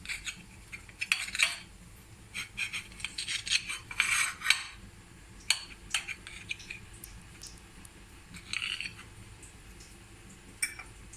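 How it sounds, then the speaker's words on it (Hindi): A knife chops slices of egg halwa into small pieces on a board, a run of quick, irregular close taps and scrapes with pauses between bursts, no talking. "स्लाइस को छोटे टुकड़ों में काट दें ऐसे"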